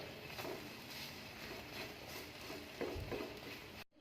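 French toast frying in a hot pan, a steady soft sizzle running throughout with a light stir or scrape near the end before a brief silence.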